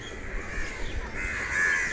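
Crows cawing while bathing on a summer Sunday morning in Model Town Park, Lahore: repeated harsh caws from several birds close by, over a steady noisy outdoor background.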